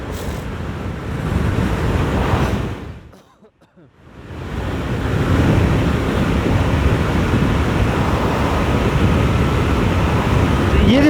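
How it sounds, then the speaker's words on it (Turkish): Strong wind roars and buffets the microphone on a windy day during an MZ ETZ motorcycle descent of a mountain road from Erciyes, dropping away briefly midway before surging back loud and steady. "rüzgarlı bir gün arkadaşlar aynı zamanda"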